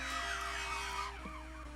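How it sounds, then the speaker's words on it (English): A siren sweeps past in the distance, rising and falling for about a second beside a steady background hum before fading out. "There was a siren."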